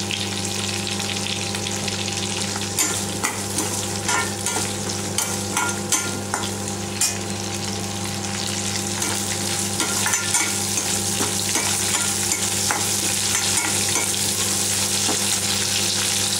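Curry leaves sauté in a pan during tempering for dal rice and are stirred. A dense, loud, continuous sizzle carries on throughout, with frequent close stirring scrapes and no speech.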